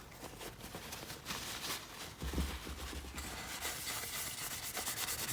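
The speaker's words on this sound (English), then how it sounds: "rub it in" A shop towel rubs finish into a handmade wooden spatula, producing a soft, steady, close-up friction hiss with faint repeated strokes, quiet and uninterrupted by speech.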